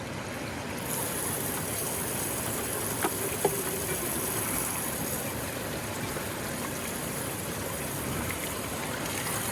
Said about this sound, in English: So we're going to wash this off into here.